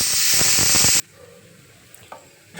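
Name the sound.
pressure cooker whistle releasing steam while cooking pumpkin curry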